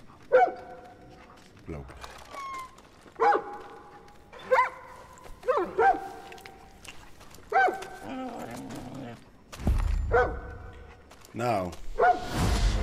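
Timber the dog in Far Cry New Dawn barks in a series of sharp, close barks and yips spaced a second or so apart, with short whimpers between them and someone speaking briefly.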